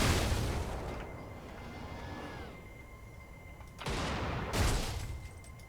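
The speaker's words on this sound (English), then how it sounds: "Something trying to shoot me from behind." Gunfire hits at a player in the hover-tank game Brigador: loud bursts of shots and impacts at the start, a quieter stretch with a rising whine, then two more heavy blasts near the end, with no talking.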